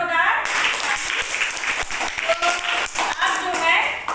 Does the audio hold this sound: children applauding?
yes